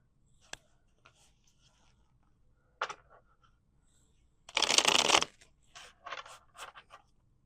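Tarot cards are shuffled close up in quiet: a few isolated taps and flicks, then a dense riffling burst followed by several shorter shuffling rustles.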